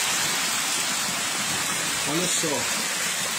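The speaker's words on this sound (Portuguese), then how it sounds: "É, a ventania, muita chuva." Heavy rain with strong gusting wind during a storm in Quixadá, Ceará, makes a dense, constant roar and hiss throughout, while someone speaks briefly over it partway through.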